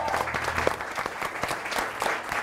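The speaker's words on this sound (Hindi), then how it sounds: "सनम की सादगी पे तालियां होनी चाहिए" A small group claps for Sanam at a family gathering, a short burst of brisk, scattered applause lasting a couple of seconds, fairly close, with faint voices underneath.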